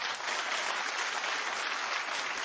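A studio audience claps throughout, a dense sustained wash of applause with no pauses, fairly close and steady in loudness.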